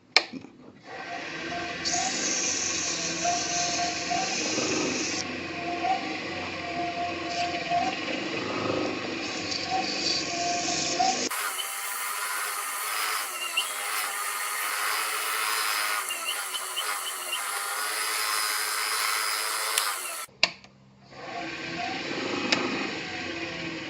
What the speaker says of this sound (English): So this is just regular sandpaper, just wet. I'm doing that on a slow speed.